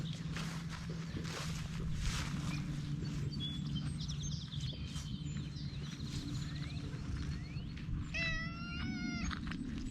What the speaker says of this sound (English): This is kitty number 2, aka Miss Tweetsy.